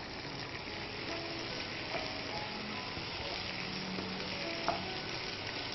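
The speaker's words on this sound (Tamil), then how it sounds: "இப்போ வந்து இதை அட்லீஸ்ட் ஒரு 2 மினிட்ஸ்க்கு நம்ம நல்லா ஸ்டிர் ஃப்ரை பண்ணலாம்" Bell peppers stir-fry in a pan with a continuous, moderately loud sizzle and occasional faint scraping from stirring, steady throughout.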